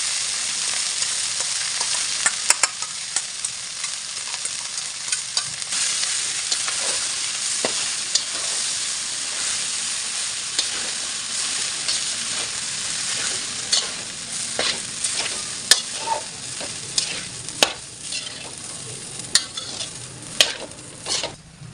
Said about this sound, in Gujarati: હવે આપણે જે રાઈસ અને મસૂર બોઇલ કર્યા હતા એ એડ કરીશું અંદર